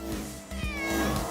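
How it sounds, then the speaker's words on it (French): A cat lets out a short, wavering meow, close and fairly loud over a low background hum. "C'est le chat de ma grand-mère."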